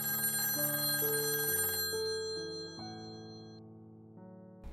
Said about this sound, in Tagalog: Napangiti ako nang marinig ang tunog ng telepono